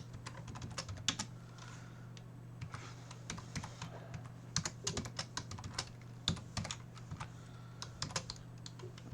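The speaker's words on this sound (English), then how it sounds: "Just a moment as I type this into my Python terminal." Rapid, uneven typing on a computer keyboard entering commands into a Python terminal, crisp close key clicks in bursts over a steady low electrical hum, with no voices.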